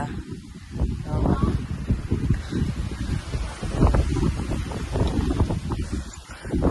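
Wind at a hilltop temple, heavy gusts buffeting the microphone in loud, uneven rumbling bursts, with a faint rustle over it.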